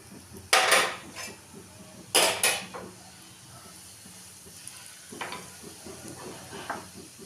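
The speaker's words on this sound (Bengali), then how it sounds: "গোটা জিরে ফোড়ন দিলাম," Whole cumin seeds and asafoetida tempering in hot oil for a dry potato curry, giving two loud bursts of sizzle that fade, then softer crackling with light utensil clinks.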